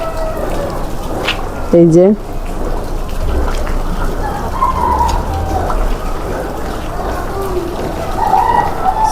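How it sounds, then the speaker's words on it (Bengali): Rain falls steadily under an overcast, cloudy sky, making a constant wash of close patter that runs through the whole stretch, with a person briefly speaking and faint bird calls in the background. "রৌদে নাই, মেঘলা মেঘলা, বৃষ্টিও পড়ছে"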